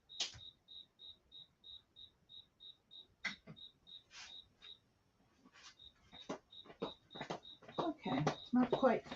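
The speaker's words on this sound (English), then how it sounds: "You guys enjoy the cricket and I'll be right back." A cricket indoors chirps in a steady, evenly spaced series of high, clear pulses, fairly faint and continuing as a person talks close by.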